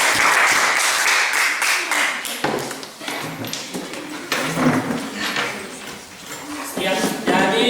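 A classroom group applauds student group 3 after their presentation, with dense clapping that swells and fades in waves over several seconds, with some voices mixed in.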